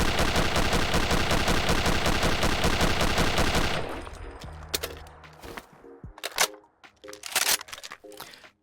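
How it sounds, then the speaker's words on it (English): An FG-42 rifle in Fallout 4 fires its default sound in a rapid, loud, continuous burst emptying the magazine, then mechanical clicks and reload clatter follow with a few scattered single shots. "starting with the default sound for this rifle. And we'll go ahead and give a mag dump as well."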